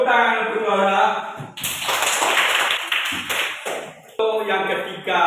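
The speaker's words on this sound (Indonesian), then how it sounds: "Ya, tepuk tangan untuk Laura." Classroom applause for a student named Laura: a burst of clapping from several pupils lasting a few seconds, fairly close and loud, framed by a teacher's voice talking before and after.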